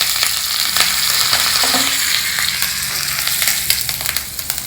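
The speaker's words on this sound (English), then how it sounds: "Now I am adding some mustard seeds to this oil" Mustard seeds and curry leaves sizzle and crackle in hot oil for a South Indian tadka, a steady close hiss with small pops and no talking.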